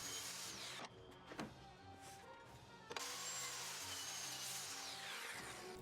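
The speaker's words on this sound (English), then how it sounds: "Then I cut the top down to length with the circular saw." Power saw noise from a circular saw cutting a pine board to length for a table top: a sustained loud whine with brief dips and a renewed surge midway, no talk over it.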